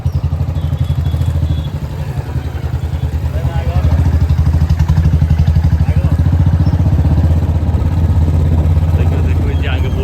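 Tempos and motorcycles idling and revving at a crowded village feast gathering, a loud, close, rattling engine chug running continuously with a voice talking over it.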